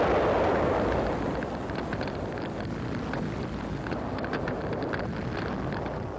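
Japanese 77mm gun shells striking Marine tanks on Iwo Jima in 1945, heard as a continuous loud roar of combat noise with a heavy burst at the start, a dense rumbling wash without clear separate impacts.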